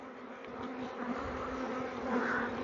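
Honey bees buzz around a hive in a wildlife garden, a soft, continuous hum of many insects with a steady drone and no speech.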